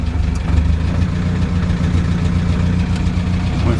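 A small Crosley car engine idles steadily after starting, a low continuous rumble with slight unevenness, heard close and alone.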